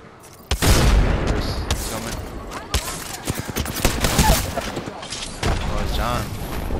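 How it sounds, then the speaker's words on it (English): Grenade blast in the Apex Legends shooter, a loud booming explosion followed by scattered gunfire and impacts, with players talking throughout. "Look out, grenade!"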